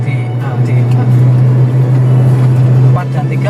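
Toyota Kijang LGX 1997 engine holding a steady loud drone while in gear, a sustained low hum close by with slight swells near the end.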